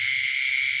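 A black cricket chirping at night, a steady high-pitched trill held without a break, close and fairly loud.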